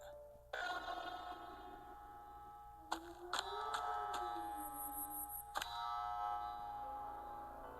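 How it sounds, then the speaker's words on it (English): Bright chiming tones ring out in a layered, sustained chord, with a few sharp strikes and a gliding tone underneath, then fade away. "Collect all 4 keys and we hear the sound of bells ringing."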